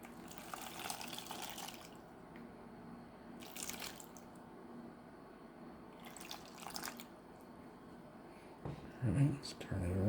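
Water running and dripping softly as a Rivarossi EMD E8 model locomotive shell is rinsed off, faint and steady with a few louder splashes near the end.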